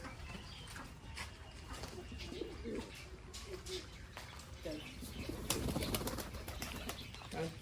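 Pigeons feeding coo softly and flap their wings now and then, a busy flock close by, while a person talks intermittently over the birds.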